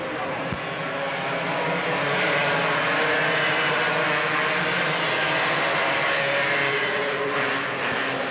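Stock cars racing at Hickory Speedway in 1995 make a sustained, loud, broad engine roar that swells and holds steady across the field, with a faint voice underneath.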